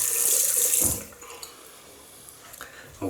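Water from a tap rushes loudly for about a second while warming a Lord L5 double-edge razor, then shuts off, followed by faint drips and small handling knocks.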